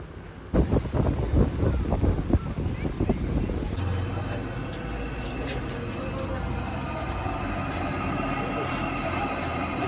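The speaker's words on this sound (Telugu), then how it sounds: "అసలు ఎంత గాలి అంటే ఒకసారి వినండి గాలిని కూడా." Strong wind in the hills of Ooty buffets the microphone in a loud, continuous roar, with voices audible over the opening seconds before the wind noise carries on alone.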